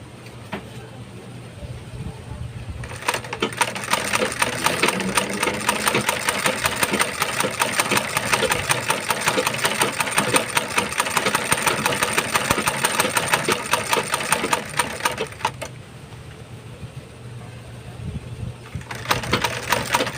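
A sewing machine stitching a leather sandal strap, running as a rapid, steady mechanical whir for roughly twelve seconds before stopping, close by over a faint background hum.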